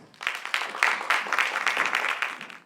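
A small audience at a keynote conference on women's empowerment claps in a short burst that rises quickly, holds as a brisk patter of hands for a couple of seconds, then tapers off, fairly close with no voices over it.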